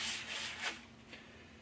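A dry cloth wipes the exterior of a TU5 series turbidimeter. The rubbing comes as a few soft, quiet strokes, with a brighter swipe near the middle and no voices.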